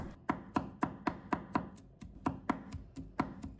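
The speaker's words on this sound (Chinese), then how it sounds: "再准备1把大蒜，把它切成片， 再切成末。" Knife chopping garlic on a cutting board, first into slices and then into mince: steady, evenly spaced sharp chops, about a dozen in quick rhythm, close and clear with no talking.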